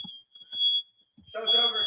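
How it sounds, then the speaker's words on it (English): A high, steady smoke alarm tone sounds continuously, with voices and chatter rising over it toward the end. "Smoke alarm's on."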